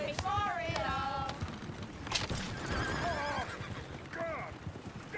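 Horses in the Red Dead Redemption 2 western video game give several loud, shrill whinnies over busy hoof clip-clops, with what may be voices beneath the commotion.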